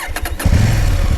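KTM 890R motorcycle engine started with a touch of the button: a brief starter whir, then the engine catches into a close, rumbling idle.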